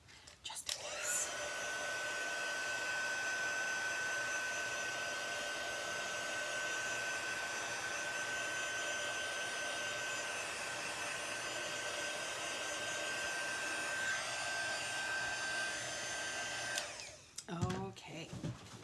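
Hair dryer blowing steadily and close for most of the stretch while drying watercolour paint on a stamped image, switching off near the end with a few small knocks.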